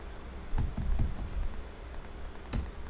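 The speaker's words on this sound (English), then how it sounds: "press A on your keyboard" Keys are pressed on a computer keyboard while working in Adobe Illustrator: about five close, soft clicks in an uneven run over a quiet room background.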